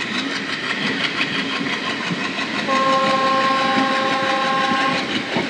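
The Siliguri to Alipurduar night train pulls away from Rajabhatkhawa station, wheels rumbling loudly up close, with a sustained horn sounding over the rolling clatter in the second half.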